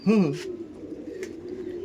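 A male racer pigeon gives one short, throaty coo up close, followed by faint background murmur.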